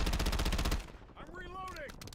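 Rapid burst of video game gunfire, loud and dense for under a second, then stops abruptly, leaving quieter game ambience with whistling, sweeping tones.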